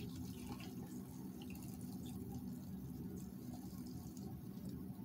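Hot water pours steadily into an ultrasonic jewelry cleaner, a continuous low splashing and gurgling at moderate volume with no talking.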